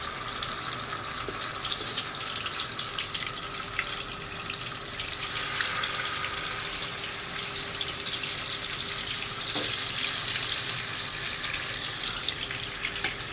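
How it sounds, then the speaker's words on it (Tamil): Small tilapia (jalebi fish) frying in hot oil, a loud continuous rushing sizzle that holds steady throughout with occasional crackles, no talking. "அதுக்குள்ளே ஆயில் ஹீட் ஆகிடுச்சுங்க. மீனை போட்டுருவோம்."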